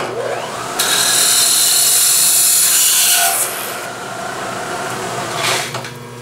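Twist drill bit boring a hole through plastic, a loud steady whirring grind that runs for about two and a half seconds, then drops to a lower hum, with a brief rise again near the end.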